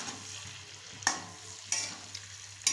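Potatoes frying with onion and green chilli, a soft continuous sizzle broken by a few sharp stirring scrapes and clinks of a spatula against the pan, close and fairly quiet.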